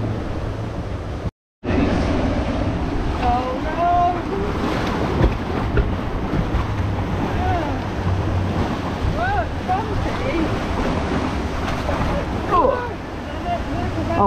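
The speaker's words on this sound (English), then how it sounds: "Here we go on Legendia's rapids." Rushing, splashing water and steady rumble from a rapids water ride at Legendia amusement park, loud and continuous for the whole stretch apart from a brief cut near the start, with excited voices and shrieks mixed in.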